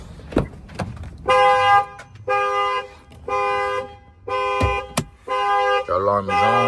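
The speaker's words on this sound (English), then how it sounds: "The alarm is on." A 2021 Chevy Silverado car alarm blares in repeated horn-like bursts, loud and close, separated by brief pauses, with a couple of sharp clicks between them.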